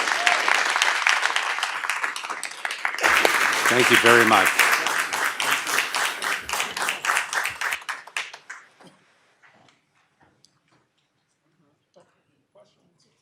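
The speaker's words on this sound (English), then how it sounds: "Everybody, please give our students a round of applause" Applause for students at a school board meeting, a room of clapping that swells after a few seconds, stays strong, then thins into scattered claps and stops, with a person speaking briefly over it.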